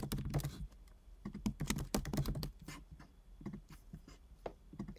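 Rapid keystrokes on a computer keyboard while entering quiz answer options, a dense irregular patter of close, quiet clicks running throughout.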